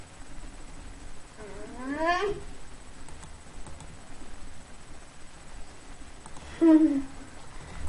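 A young child imitates a cat, giving two drawn-out wavering meows a few seconds apart, the second shorter and louder, in a quiet indoor room.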